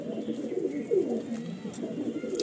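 Low, throaty cooing from Madrasi pigeons fills a loft, with overlapping repeated phrases near at hand and one louder burst partway through.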